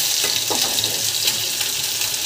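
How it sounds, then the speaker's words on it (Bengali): Loitta fish frying in a pan, a loud, continuous close hiss of hot oil with faint scraping underneath as the pieces are turned, no voices. "আমার লেট্টা মাছ ভাজছি, উল্টাই দিচ্ছি এই অবস্থা"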